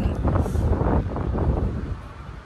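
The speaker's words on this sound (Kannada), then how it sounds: "ಗಾಳಿ ಸೌಂಡ್ ಬರ್ತಿರ್ಬೇಕು ನೀವು." Cool wind on a stormy day buffets the microphone in loud, low rumbling gusts that ease off toward the end.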